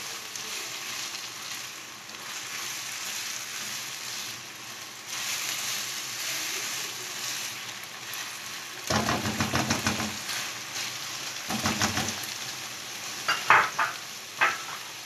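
Capsicum and finely chopped carrot cook in a pan with a steady hiss. Later, bursts of scraping and clattering from a stirring spoon join in, close and fairly loud, with no talk.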